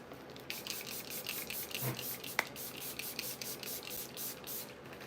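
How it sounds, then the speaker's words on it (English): Faint hissing bursts of a spray bottle, a few short sprays in a quiet room with light background noise. "I'm going to try to spray it one more time."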